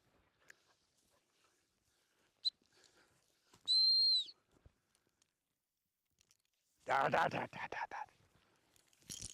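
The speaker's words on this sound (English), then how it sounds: "So I blew the stop whistle." A single short, shrill dog training stop whistle blast sounds in near silence, followed by a quiet spoken voice.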